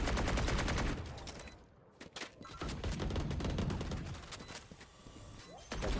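Rapid bursts of Spectre submachine gun fire in Valorant, loud and continuous, with short pauses between volleys and brief clatter.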